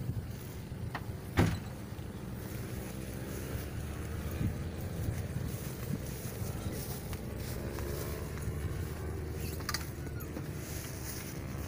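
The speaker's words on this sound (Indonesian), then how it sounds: "Kita akan coba dengan mesin tempel." A Matsumoto MOB-830G outboard motor drives an Intex Seahawk 4 inflatable boat on the lake at Situ Cibeur, giving a steady low engine drone with a sharp knock near the start.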